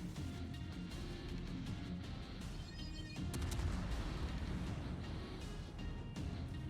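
Naval gun salvos and shell impacts rumble continuously in the World of Warships video game, a dense layered roar with sharper blasts breaking through midway.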